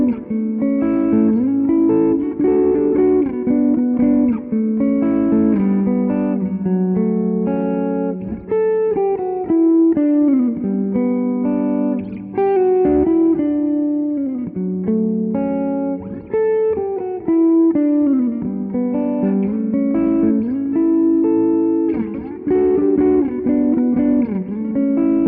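An electric guitar played through a solid state amp with a Bluesbreaker-style overdrive pedal set to moderate gain gives a loud, sustained, lightly driven tone, with melodic lines and chords ringing continuously and no talking.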